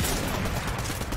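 Gunfire hitting the player in Fortnite, a dense loud burst of rapid shots filling the moment without pause.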